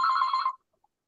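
A telephone rings with one loud, close electronic trill lasting about half a second, then cuts off into silence.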